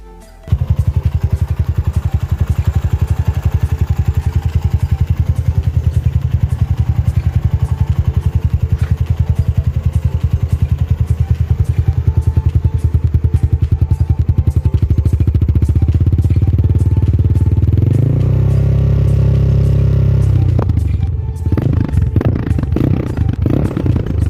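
A Yamaha Scorpio 225 motorcycle with a bored-out exhaust idles with a loud, steady rumble for a long stretch, then rises as the throttle opens near the end, close by with no talking.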